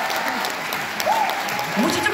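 Audience applause after a pansori performance, a steady dense wash of many hands clapping at moderate level, with a voice briefly calling out over it.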